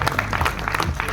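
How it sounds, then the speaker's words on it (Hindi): Audience applause for actor Nana Patekar at a Mumbai trailer launch for The Vaccine War, brisk close clapping in quick bursts with voices underneath. "नाना सर के लिए जोरदार तालियां हो"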